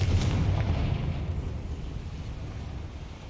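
A Confringo fire spell bursts in the video game Hogwarts Legacy, a deep booming explosion that rumbles loudly at the start and then fades into a long low roar.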